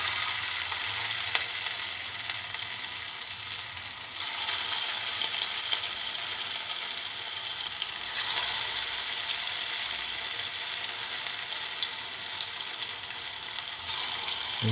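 Cottage cheese, fenugreek leaf and chickpea fritters fry in hot oil, giving a steady, dense sizzle and crackle that holds at an even loudness throughout, close up and with no voices.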